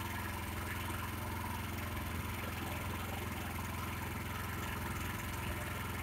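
An MTZ walk-behind tractor engine running steadily while pulling a trailer, a constant low mechanical drone with even chugging and no breaks or speech.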